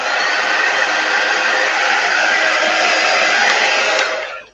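A hair dryer blows steadily and loudly close by, drying chalk paste on a craft project, a continuous even airy roar that holds unchanged before switching off at the end.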